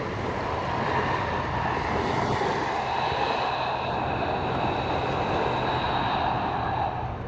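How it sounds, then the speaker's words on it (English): Ocean surf off the coast of Maui, Hawaii, rolls in a continuous, steady wash of broadband noise without distinct breaks, heard alone with no talking. "sway gently to the rhythm of the sound of the ocean"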